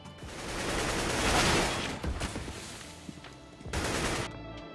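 Dense bursts of rapid video-game gunfire from hip-fire shooting in a game under development, loud and continuous for several seconds, then tapering before another short volley.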